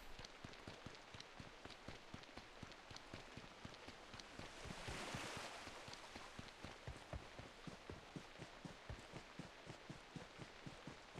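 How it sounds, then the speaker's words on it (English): Rain falls in PUBG Mobile, a steady soft patter of drops on surfaces with regular light taps throughout, faint and continuous with a brief swell in the middle. "The sound of rain is nice. It is very soothing, I like it."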